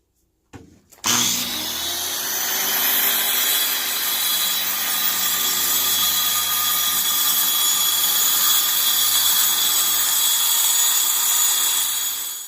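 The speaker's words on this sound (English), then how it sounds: "we'll finish the straight cut with a skill saw" A circular skill saw makes a long straight cut through a plywood template. It starts with a sharp burst, then gives a loud, steady, high-pitched whine of blade cutting wood that holds for about eleven seconds before trailing off.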